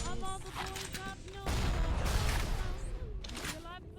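Gunfire from the video game BioShock, a loud broadband burst with rumbling low end over a steady game background, with a voice talking through part of it.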